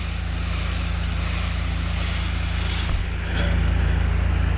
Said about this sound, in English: Giving a good rinse on the outside right now.